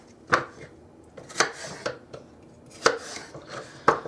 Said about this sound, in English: Finish the celery, cut up my carrots